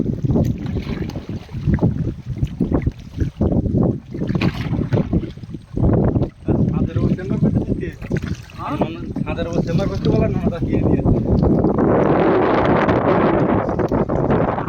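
A wooden boat rowed through a jungle creek in the Marichjhapi forest of the Sundarbans, with oar strokes splashing in irregular bursts, wind buffeting the microphone and water rushing louder toward the end; voices talk at times.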